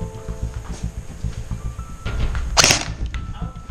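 A single sharp sniper rifle shot in a video game cracks out loudly over quieter thumping game sounds, followed by a short fading tail.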